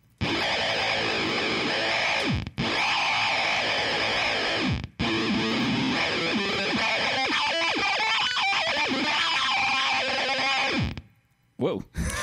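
An electric guitar played through an Electro-Faustus effects pedal gives a loud, wild, heavily distorted and warbling tone, with abrupt gated cut-offs between phrases before fading to near silence at the end.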